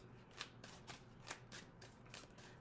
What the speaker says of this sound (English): I'm shuffling for the top of the deck.